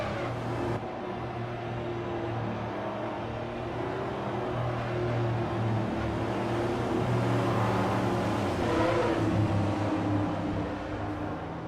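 NASCAR Grand National stock cars race at the Indianapolis Motor Speedway in Forza Motorsport 4, a steady engine drone holding even and loud throughout with no voices.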